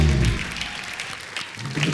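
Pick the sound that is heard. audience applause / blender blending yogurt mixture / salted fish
audience applause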